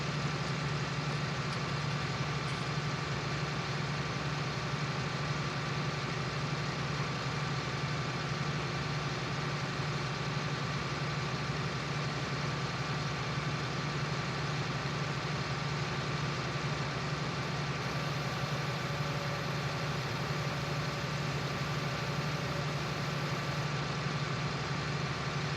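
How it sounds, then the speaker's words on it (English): A tractor idles in Farming Simulator 19 with a steady, low, droning hum that holds unchanged for the full stretch, close by and even in loudness, with no voices. "Leave our tractor idle in there."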